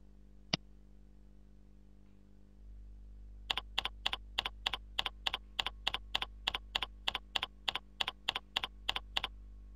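A single click, then a steady run of evenly spaced keystrokes typing a mail server name on a computer keyboard, crisp and regular over a faint steady hum.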